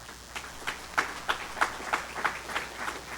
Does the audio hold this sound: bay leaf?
no